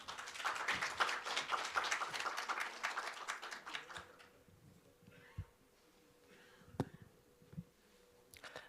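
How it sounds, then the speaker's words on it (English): Audience applause welcoming a guest speaker from a Mongolian district hospital at a medical forum, steady clapping for about four seconds that thins out into sparse scattered claps and quiet room noise. "Please welcome him with a big round of applause"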